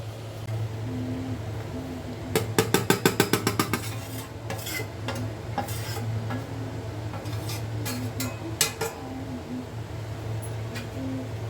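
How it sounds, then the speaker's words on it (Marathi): Ingredients for a monsoon ladoo (semolina, dried coconut, fenugreek flour, halim seeds and dry fruits) are stirred in a pan, with a quick run of rapid metallic scraping clicks followed by scattered softer scrapes and taps. "आता रवा खोबरा मेथीचं पीठ हलीम आणि ड्रायफ्रूट हे सगळं आता मिक्स करून घेते"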